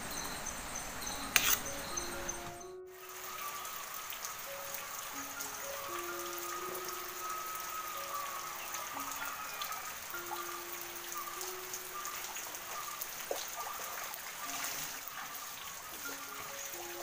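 Steady rain falls outside onto an open courtyard, a soft continuous patter with occasional louder drips, heard faintly from a distance without any talk.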